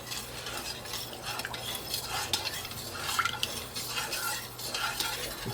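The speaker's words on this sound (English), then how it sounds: "Because we do want to give it a stir." A spoon stirring liquid in a pot over very low heat, just short of a simmer, with soft swishing and a few faint metallic clinks above a quiet hiss, close and fairly gentle, with no talking.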